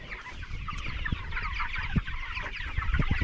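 Chickens clucking out on soft, sappy grass pasture, a steady overlapping chatter of several birds at close to moderate distance with occasional sharper calls.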